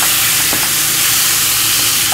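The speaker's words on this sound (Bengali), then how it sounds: "1 মিনিট পুরো সময় নিয়ে একটু মশলার সাথে ফ্রাই করে নিচ্ছি" Raw mango chutney spices frying in a pan, a steady loud sizzle and hiss that carries on unbroken with no voices over it.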